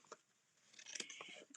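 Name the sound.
paper scissors cutting a small piece of fabric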